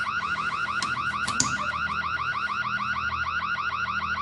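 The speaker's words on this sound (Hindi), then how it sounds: "लेजर सेंसर गलती से बजा होगा।" A home security alarm set off by a laser sensor blares in a film, a loud, steady warbling electronic tone that repeats rapidly throughout, with a brief sharp knock partway in.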